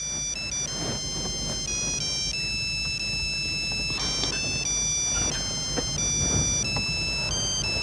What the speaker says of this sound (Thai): โทรศัพท์ดังนะลูก